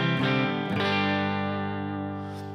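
An electric guitar played through a cranked Twin Reverb amp model on a Headrush pedalboard strikes two full chords in quick succession, then lets them ring out clean with little overdrive and slowly fade.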